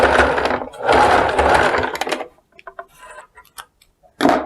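Sewing machine stitching thick hat fabric, with a steady loud mechanical run of a couple of seconds followed by scattered light ticks and clicks, then another short burst of stitching.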